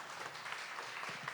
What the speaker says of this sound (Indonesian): Pak Wandi, berikan tepuk tangan Pak Wandi.